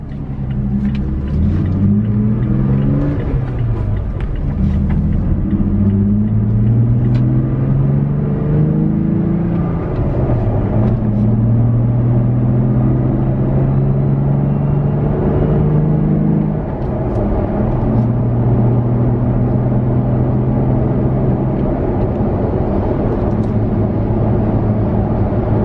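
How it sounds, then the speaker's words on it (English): Jeep Gladiator pickup truck cabin while accelerating onto a 55-60 mph road: loud steady engine rumble rising through several gear shifts, then settling into a constant drone of road and engine noise, with no talking. "Now we're going to turn on to the 55-60 mile an hour road, get up to speed, and you'll be able to hear what it sounds like"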